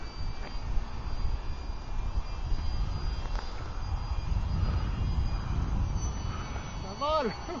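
A model biplane's engine drones steadily overhead on its maiden flight, a constant mid-distance buzz that swells slightly near the end, with people talking alongside it.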